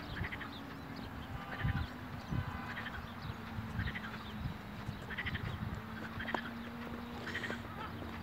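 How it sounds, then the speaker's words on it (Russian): Frogs croaking in mating season in a park at the edge of Tbilisi, their calls coming in repeated bursts every second or so over a steady low hum of distant background noise. "Поющие лягушки."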